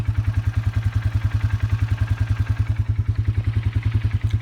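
A Polaris Sportsman 4x4 ATV engine idles close by, a steady, loud, throbbing chug with a fast, even pulse that holds throughout.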